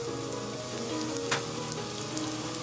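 Onions fry over a high flame in hot oil, a dense, even sizzle crackling steadily throughout with a few brief pops and a faint stir partway through.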